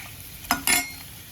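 Eggs coated in masala fry in oil in a pan over a high flame, with two short, sharp bursts of sizzling and stirring close by against a quiet background.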